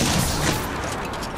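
Gunfire in the Apex Legends video game, a dense, loud burst of rapid shots with booming impacts filling the moment without pause.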